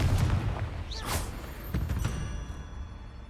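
A Confringo blasting curse explodes in Hogwarts Legacy, a loud booming blast with a whooshing burst and rumbling tail, followed by a second fainter impact.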